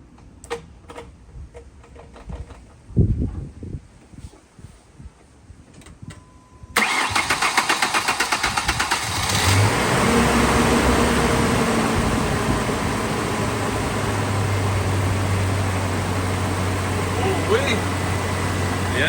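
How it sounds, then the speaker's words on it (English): Ford Ranger shop truck engine cranks and fires up after a quieter stretch, then runs loud and steady with some revving. Voices are heard before it starts. "see if the little shop truck will fire up"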